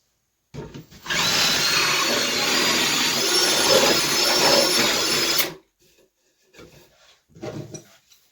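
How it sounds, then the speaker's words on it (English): A loud, steady drill grinding a hole through wood for threaded rod for about five seconds, then it stops, followed by a couple of short scraping and handling noises. "We're going to drill that out so it fits this chunk of threaded rod."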